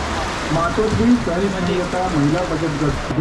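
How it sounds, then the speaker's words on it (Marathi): Heavy rain pours down in a steady roar while a person talks over it. "पाऊस बघा किती जोरात आलाय"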